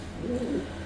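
Pigeons coo softly in a loft, one low rounded call rising and falling over a faint ambient hum.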